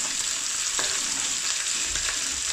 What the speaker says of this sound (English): add the garlic and the ginger together. And you stir it